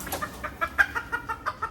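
A chicken in a show cage at a poultry showmanship event clucks in a quick, steady series of close, clear clucks, about ten in under two seconds.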